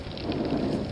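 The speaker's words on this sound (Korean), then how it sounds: "지금 비가 오네" Rain falling steadily on a fishing boat off Daecheon harbor, a dense, continuous hiss of drops on the surface, loud and close throughout with no talk.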